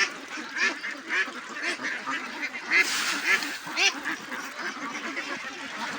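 A flock of ducks at a pond quacking continuously as they come to feed, many overlapping calls at close range, busy and fairly loud throughout.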